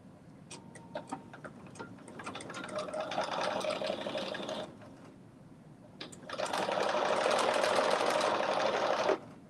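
A sewing machine stitches in two loud close bursts, starting with a few slow clicks before running steadily, separated by a short pause.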